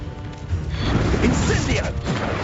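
An Expulso blasting spell smashes something in Hogwarts Legacy, a loud rumbling crash and crumble swelling after a brief lead-in, with a voice speaking over the game sounds.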